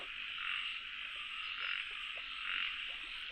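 A dense chorus of frogs and small paddy frogs croaks and trills continuously outdoors, a steady buzzing wall of calls that swells in slow pulses, with no voices.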